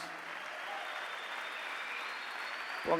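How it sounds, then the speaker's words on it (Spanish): A church congregation at a Christian conference applauds in a broad, even wash of clapping that holds steady throughout, ending with a brief low thump. "Vamos a darle fuerte el aplauso a Cristo"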